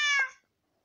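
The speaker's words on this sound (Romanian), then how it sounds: "Pisica miau." One short, close domestic cat meow, bright and sustained for a moment, then fading quickly into silence.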